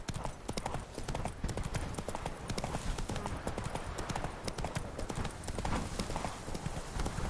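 Hooves of Roach, a horse in The Witcher 3: Blood and Wine, clip-clop steadily and close at a walking pace, a continuous rhythmic plodding over ambient game sound with a faint voice.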